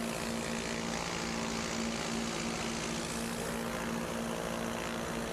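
Propeller airplanes racing side by side in the STOL class at an air race, a constant loud droning roar with a steady engine hum that holds level throughout.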